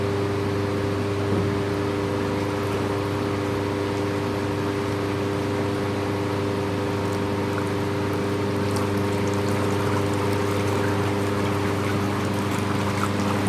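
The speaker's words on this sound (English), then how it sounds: "We go and start switching on the pumps." Pumps hum steadily, circulating water in a rug-washing pit, a constant mechanical drone layered with the wash of moving water and no talk.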